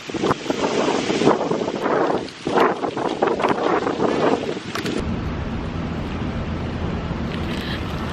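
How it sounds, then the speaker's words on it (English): Strong wind buffets a nearby microphone in loud, rumbling gusts, dropping briefly, then settling into a steadier roar for the last few seconds. "It's so windy."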